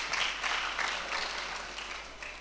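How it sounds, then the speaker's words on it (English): Conference audience applauding steadily, a dense wash of many hands at moderate distance, continuous for the whole stretch with no voices on top. "can we have a round of applause for the Share guys?"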